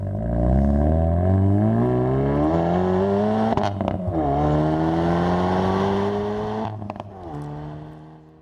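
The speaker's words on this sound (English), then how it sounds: "just listen to this exhaust note" A Hyundai Veloster N revs hard, its exhaust note climbing in pitch through rising gears with brief shift breaks, loud and close, then easing off at the end.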